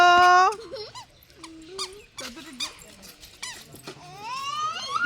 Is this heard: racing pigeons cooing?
no